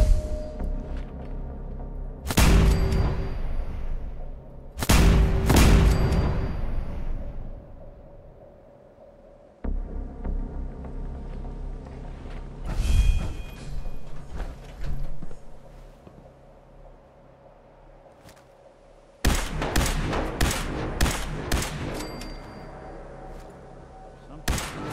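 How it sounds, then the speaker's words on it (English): Sniper rifle fire in Fallout 4, a handful of loud, booming shots spaced seconds apart with long echoing tails, ending in a quicker burst of reports, with quieter game ambience between them. "Let's switch to our sniper rifle."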